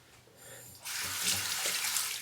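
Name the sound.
hot water running from tap for shaving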